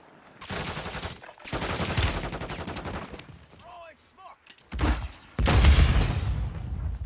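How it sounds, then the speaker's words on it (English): Gunfire in the video game Warzone 3 comes in loud rapid automatic bursts separated by short pauses, with a few faint electronic chirps between volleys and no talk. "Yo, somebody, I'm getting shot at."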